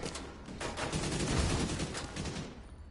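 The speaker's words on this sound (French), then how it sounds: "je m'attendais pas que ma grenade soit si forte" A grenade blast in The Division 2 gives a dense, crackling burst of noise lasting a few seconds, rough and broadband like rapid gunfire, fairly loud with no talk over it.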